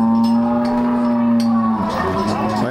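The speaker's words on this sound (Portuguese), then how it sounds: "As vacas aí diferenciadas aí, parida." Cattle, including Jersey cows, moo at a livestock market in Caruaru, Pernambuco, one long loud close low moo followed by another rising call, with faint background noise of the fair.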